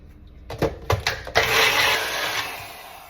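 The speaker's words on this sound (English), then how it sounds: "I need to get me a larger blender" A small blender mixing detox tea starts with a few stuttering pulses, then whirs continuously at close range, loud and alone with no voices.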